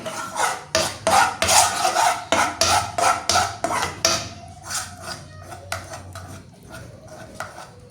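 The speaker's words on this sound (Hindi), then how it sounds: "बस आपने इस तरह से चम्मच अच्छे तरीके से इसके अंदर इस तरह से हलाना है" A metal spoon stirs sauce in a pan, making a run of close, rhythmic scraping and rubbing strokes that are loud at first and then ease into lighter, scattered taps.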